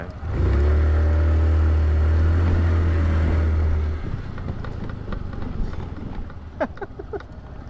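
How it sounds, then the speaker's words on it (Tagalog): A Motorstar Legend 125 fuel-injected motorcycle engine drones loudly and steadily for about four seconds, then cuts back to a rougher idle with scattered clatter. "Ang lakas ng makina niya. Fuel injected kasi."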